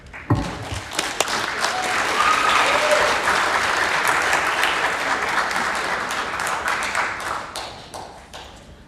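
An audience applauds a student from Palestine North Girls High School after her speech at a Pasifika Fusion rehearsal, dense clapping swelling quickly and holding steady for several seconds before tapering off.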